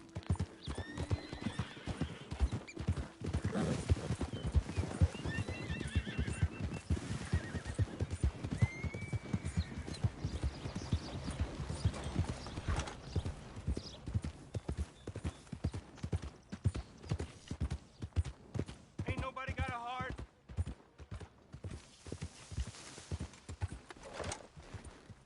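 Steady clip-clop of horse hooves in Red Dead Redemption 2, a rhythmic trot running throughout at moderate volume, with a few brief whinnies and snorts breaking in and little speech.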